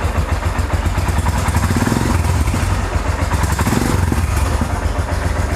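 A motorcycle engine running and being revved during a charging-system check, a loud, close, continuous rumbling drone with rattly clatter and slight rises in pitch.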